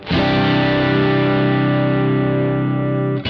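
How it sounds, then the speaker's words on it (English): A single sustained distorted guitar chord through a Tubemeister 5 tube amplifier rings out loud and thick, holding evenly for about three seconds before cutting off. "Smooth and even distortion over the whole spectrum, but also lacking any sort of bite"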